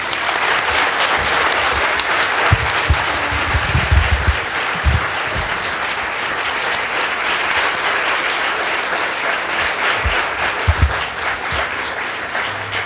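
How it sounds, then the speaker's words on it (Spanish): A full audience at a university humanities panel gives long, steady applause, loud and dense throughout, with a few low thumps of handling noise beneath the clapping. "al mismo tiempo que le brindamos un aplauso"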